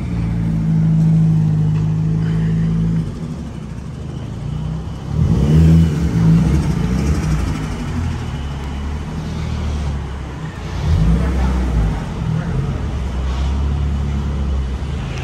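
A Nissan Silvia's engine revs hard on a dynamometer, loud and close, with repeated surges as the throttle opens and backs off, punctuated by brief quieter gaps between pulls.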